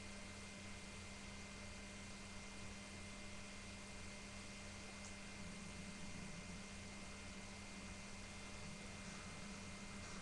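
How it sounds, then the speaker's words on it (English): A small helicopter flying in Grand Theft Auto 4 gives a steady, faint droning hum with a constant tone and no break across the clip. "Don't use the big helicopters because they suck at hovering."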